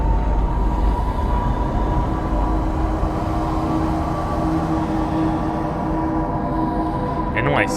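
A New York-style subway train in the video game Control rumbles past, giving a loud, continuous rolling roar with a steady metallic hum that holds throughout, ending in a brief high screech.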